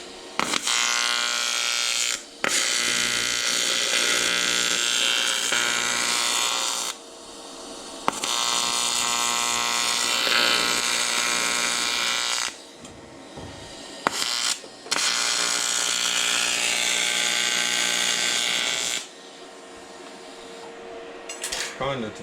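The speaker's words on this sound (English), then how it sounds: "Good looking weld as well, though." Welding on thin sheet metal for a custom Audi S3 8V rear diffuser, a steady buzzing, crackling arc held in long runs of several seconds, stopping and restarting, loud and close with no talk over it.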